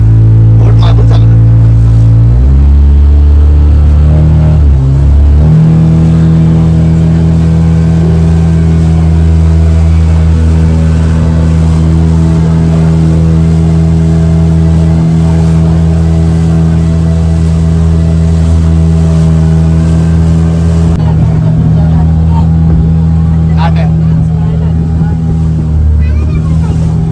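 Motorboat engine running steadily during a boat ride at Vengurla, a loud continuous drone with a shifting pitch early on, heard close throughout with water noise beneath.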